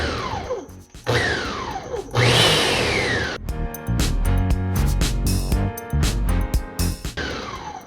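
A Ninja Foodi Power Blender chops pizza sauce ingredients in short pulses. There are a few whirring bursts, then a run of loud, choppy thumping and rattling pulses close up, with no speech.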